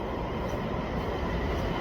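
A train at Gwangmyeong station's subway gives a loud, steady rumbling roar of rolling cars, dense and continuous for the whole stretch with no talking.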